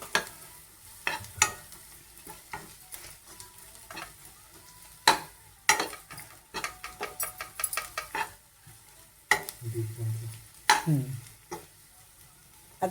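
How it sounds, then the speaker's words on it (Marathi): Onions with turmeric sautéed in a pan for okra bhaji, a soft background sizzle broken by irregular clinks and scrapes of a spoon stirring against the pan. "आपण आता त्याच्यामध्ये थोडीशी आता हळद घालूया आणि ते व्यवस्थित परतून घेऊया"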